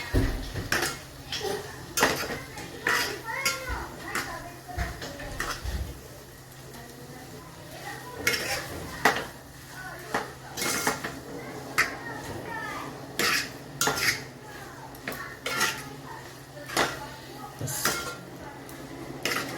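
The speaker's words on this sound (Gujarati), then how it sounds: "આ રીતે બધા મિક્સ કરી લઈશું." Hakka noodles being stirred and mixed in a pan: a utensil clatters and scrapes against the metal in irregular bursts, with a cough and faint voices now and then in the background.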